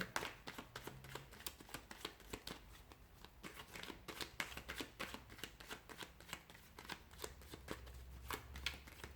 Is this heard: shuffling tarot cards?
yes